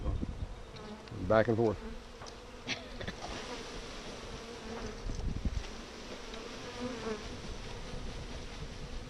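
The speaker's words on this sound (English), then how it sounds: "you can just dump the bees in there" Low buzzing of many honeybees being dumped into a hive, faint and continuous, with soft knocks and bumps; a person speaks briefly early on.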